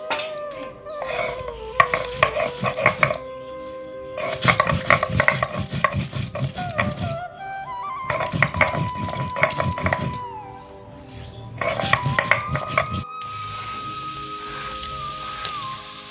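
Dry red chillies are ground on a grinding stone in several bursts of rapid, rhythmic rubbing and scraping, separated by short pauses, with a steady tonal sound running underneath throughout.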